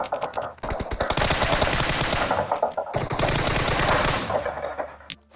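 Video game gunfire: long, loud bursts of rapid automatic shots fill nearly the whole stretch, briefly broken by short pauses before the firing resumes and then cuts off.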